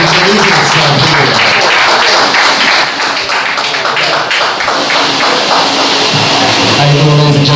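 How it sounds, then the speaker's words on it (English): Loud, continuous clapping from an open mic audience at a Red Lobster, dense and sustained with bright hand strikes filling the room, while voices murmur faintly underneath. "keep clapping till he gets out here."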